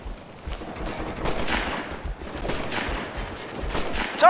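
Bursts of rapid gunfire from combat in the video game Operation Flashpoint Red River, loud and close, with several volleys over a few seconds and no talk.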